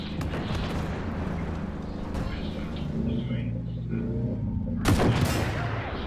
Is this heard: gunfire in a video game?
yes